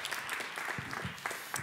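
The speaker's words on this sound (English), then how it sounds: "I think we can just make an applause for our jury." An audience at a startup competition semi-final claps for the jury, a dense, steady burst of applause from a crowd in a hall.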